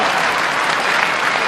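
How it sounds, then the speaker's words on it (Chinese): A theatre audience at a Peking opera concert claps loudly and steadily to welcome a singer to the stage, a dense unbroken wash of applause with no voices. "我们还是用热情的掌声，"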